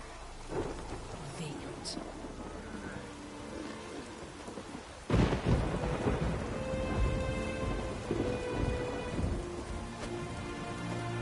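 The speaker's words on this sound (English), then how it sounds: "Raining again." Rain hisses steadily while thunder rumbles in The Witcher 3: Wild Hunt, with a sudden loud crack about halfway through, followed by a rolling, lingering thunderstorm backdrop.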